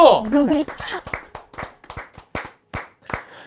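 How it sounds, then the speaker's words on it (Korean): Scattered audience clapping at a pharmaceutical company's 50th anniversary event, sparse separate claps spaced irregularly and fading out, with a voice heard briefly at the start. "박수 한번 주세요."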